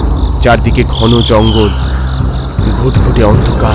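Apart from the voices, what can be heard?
loud chirping of crickets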